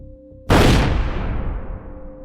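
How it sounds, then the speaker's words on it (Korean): A single loud gunshot cracks out suddenly, followed by a long, rumbling echo that slowly decays, as if fired inside a large hotel banquet hall. "총성 하나가 울렸습니다."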